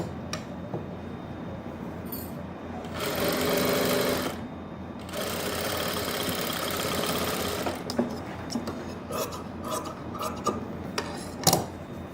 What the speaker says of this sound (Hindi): पहले सिलाई लगा लेता हूँ, फिर कपड़े को मैं कट कर दूँगा।